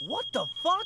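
An alarm going off in the video game Life is Strange: Before the Storm, a steady high-pitched electronic tone that holds continuously while a person exclaims over it.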